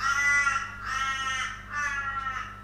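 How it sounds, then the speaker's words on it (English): A crow caws three times in a slow, steady rhythm, each call harsh and drawn out, fairly close, with a low constant hum underneath during an outdoor festival makeup session. "just wait for that crow to have its moment"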